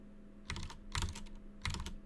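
Three quick bursts of typing on a computer keyboard sound close and crisp over a steady low electrical hum, with short pauses between the clusters of key clicks.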